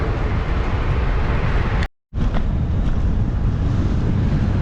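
Strong wind roars and buffets the microphone without letup, cut by a brief silence in the middle, on a road ride by bicycle near Luhansk.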